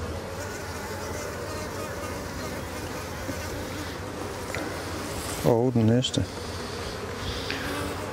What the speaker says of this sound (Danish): der kommer altid en masse bier op her på toppen